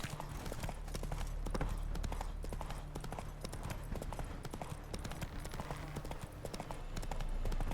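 Horse galloping in the video game The Witcher 3, steady rhythmic hoofbeats thudding close and continuous, with quiet game voices beneath.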